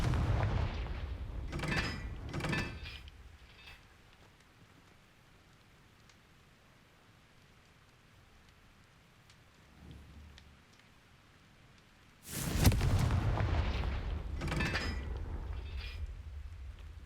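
Fire spell explosions in the Hogwarts Legacy video game boom out as rumbling blasts, a cluster of bursts early on and another loud burst later, separated by a quiet stretch, with no speech.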